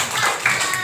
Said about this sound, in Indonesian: Tepuk tangan untuk Padi